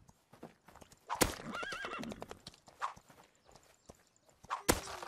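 A horse in the video game Rust neighs loudly and hooves clip-clop around it, with sharp impacts and thuds scattered through the short stretch.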